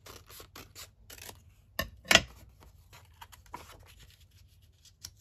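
Close scissors snip through paper for a journal, a run of quick small cuts and one louder, longer snip, with light rustling and no talking.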